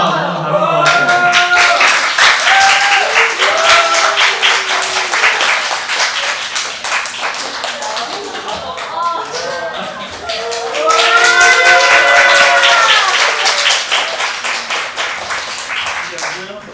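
A church youth-retreat audience claps to welcome a pastor, loud sustained applause with someone speaking over it; a second, stronger burst of clapping follows later.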